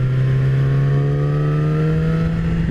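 A 2017 Yamaha R6 600 cc sport motorcycle engine hums steadily under riding, its pitch rising slowly as the revs climb, loud and close with wind noise.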